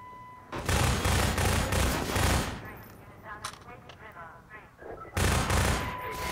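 Rapid automatic gunfire from Half-Life 2, two loud sustained bursts separated by a quieter stretch of scattered shots and noise, close and dense.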